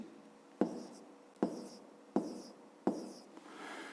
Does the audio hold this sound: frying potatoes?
no